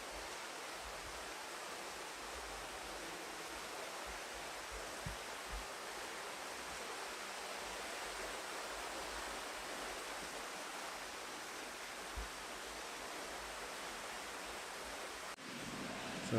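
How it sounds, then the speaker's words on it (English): A river running right beside the hot spring baths at Bath Fountain, St. Thomas, Jamaica, produces a steady, broad rushing wash that continues evenly and fairly quietly, with no voices over it. "The river runs right beside the bath."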